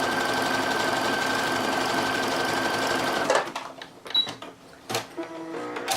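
A sewing machine runs steadily at close range, stitching fold-over elastic onto lingerie fabric, then stops abruptly partway through, leaving faint clicks and handling noises.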